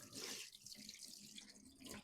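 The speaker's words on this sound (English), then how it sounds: "Rinse my fingers off real quick." Tap water running over fingers at a kitchen sink, a brief close splashing rush with no voices.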